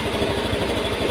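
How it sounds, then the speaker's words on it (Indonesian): A small Honda BeAT Pop scooter engine idles roughly and unevenly, a steady close mechanical drone with faint stutters throughout. "motor ini itu masih terasa nyendat ya."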